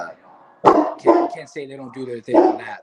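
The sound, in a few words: dog barking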